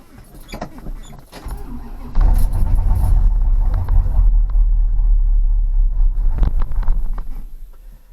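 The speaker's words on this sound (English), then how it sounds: "we're gonna start it up here and just take it around the block" A Plymouth Fury with a 383 V8 engine starts up in cold weather, a loud deep rumbling idle kicking in after a brief crank and holding steady, with a few clicks and jangles around it.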